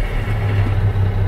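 Truck diesel engine idling at a CDL training school after push-button start, a steady low rumble with an even drone throughout, close and continuous.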